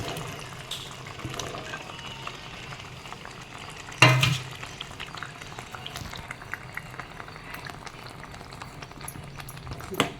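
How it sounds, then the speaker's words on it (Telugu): Stuffed brinjals cooking in a pan with onions give a quiet, steady bubbling sizzle, with a single louder clatter as they are added partway through. "ఇప్పుడు మనం ఈ వంకాయలు ఈ ఆనియన్స్లోకి యాడ్ చేసుకుందాం."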